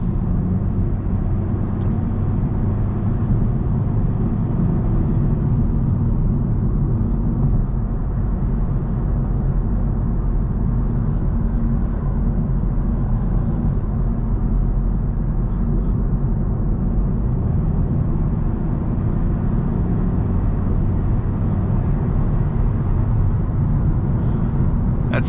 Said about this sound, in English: That's 65 miles an hour if you want to get an idea for the road noise.